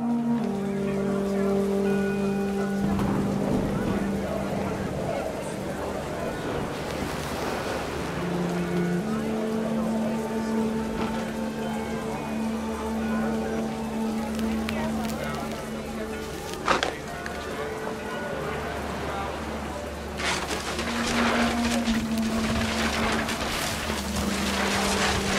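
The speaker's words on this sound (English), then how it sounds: "Rain came down in buckets then" Heavy rain pours down in the video game What Remains of Edith Finch, a steady broadband downpour that swells and fades, layered under sustained tonal music and a low hum throughout.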